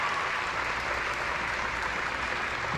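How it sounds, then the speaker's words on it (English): Tennis crowd at a 2024 NCAA Tournament college match roaring and clapping after a Spizzirri point, a dense, loud, continuous wash of cheers and applause close by, with no break. "The roar from Spizzirri."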